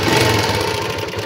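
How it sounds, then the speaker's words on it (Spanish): A motorcycle runs at its first start of the day, a steady, close rumbling engine idle that holds an even, unbroken tone through the short stretch. "cuando encienden su motocicleta el primer arranque del día, la moto, así tú la enciendes"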